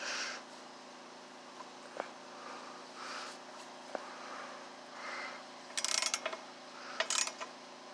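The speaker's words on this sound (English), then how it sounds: "Kind of overkill here with this ratchet" A ratchet works a bolt loose on a Gravely Pro Walk 36 mower, giving scattered clicks and two short bursts of rapid, close ratcheting between quiet scraping handling sounds, with no talking.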